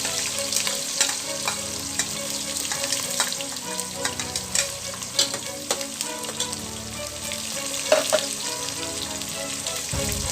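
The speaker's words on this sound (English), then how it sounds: "Now make sure that you fry these onions really well till they turn brown" Onions fry in oil with cumin seeds and peppercorns, giving a busy, close crackle and sizzle broken by scraping stirs and small pops, continuous throughout with no voices.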